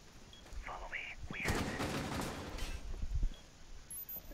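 Bursts of gunfire in the video game Rainbow Six Siege, a short loud volley of shots with a few following pops, mixed with faint voices.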